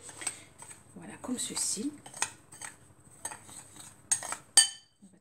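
Flour, semolina and baking powder are stirred in a bowl for Moroccan layered crêpes, with soft scraping, scattered clinks of utensil on dish and a sharper knock near the end, while a voice speaks briefly.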